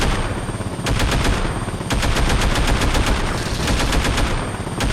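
Rapid bursts of automatic gunfire ring out in GTA Vice City as vehicles are shot, with loud repeated volleys separated by brief gaps and no talking.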